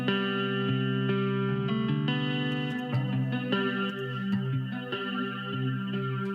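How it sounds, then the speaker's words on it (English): A shimmering, swirling electric guitar plays sustained chords and notes, its tone washed with chorus and flanger sweeps, steady and prominent with no talking. "what's really giving that nice kind of tone is the chorus and the flanger"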